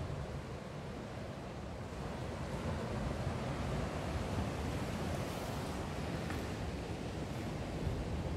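Sea surf rolling onto Seaham beach on the north east England coast, a steady broad wash of waves with some wind noise, continuous and fairly loud without a break and no talking.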